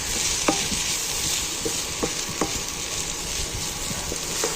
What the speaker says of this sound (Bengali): এবার আমি এটাকে ভালো করে নাড়বো।